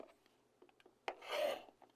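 A rotary cutter slices across fabric quilt blocks in one short, soft swish that follows a few light ticks and taps as the ruler is set down, quiet and close.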